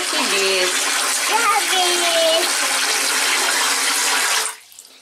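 Red-tinged water left from washing laundry rushes and gurgles down a drain in a loud, steady gush, then cuts off abruptly near the end, leaving quiet.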